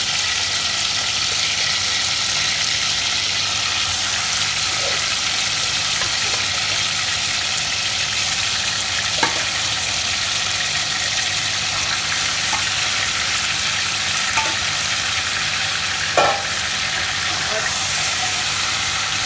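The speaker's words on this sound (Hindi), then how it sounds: "अब उसी तेल में मैं चिकन को डालूँगी।" One kilogram of marinated chicken fries in hot oil for biryani, a loud, continuous sizzling hiss throughout with occasional faint clinks of stirring.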